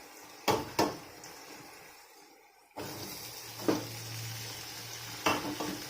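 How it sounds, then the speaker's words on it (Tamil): Garlic fries quietly in oil before a pause. Chopped onions then drop into the pan and a louder, fuller sizzle takes over, with several close stirring clanks of a spoon against the pan. "இப்போ நம்ம எடுத்து வச்ச வெங்காயத்தை உள்ள சேர்த்துடலாம்."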